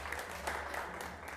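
Applause from a school audience at SMA Negeri 1 Mendoyo, a short burst of light, fairly faint clapping from a small group, steady and even throughout.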